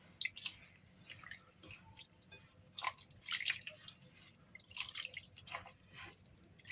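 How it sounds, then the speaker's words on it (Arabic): Warm water is poured into dough for harcha made without butter or milk, giving close, intermittent drips and soft squishy mixing sounds in short bursts, with no talking. "غادي ندير الماء يكون دافي"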